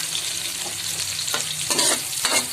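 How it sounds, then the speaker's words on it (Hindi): Onions fry in a pan for maash daal with a steady close sizzle, cut by several quick scraping stirs of a spoon, and no one speaks. "देखिए प्याज फ्राई कर रहे हैं"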